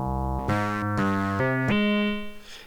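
Layered synth tones from an Ultimate Circuit groovebox, synth 1 turned up over the base station part, playing a sustained melodic sequence of rich harmonic notes changing about every half second, loud and alone, fading out at the end.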